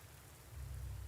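Steady rain from the Panzer Corps II strategy game, a soft continuous hiss with a low rumble that swells slightly partway through, heard alone with no talk.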